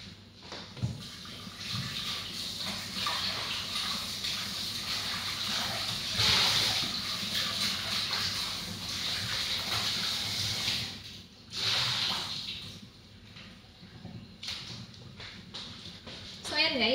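A halved, deseeded hairy gourd is washed under running tap water, a steady close splashing flow with brief pauses, while someone talks over it.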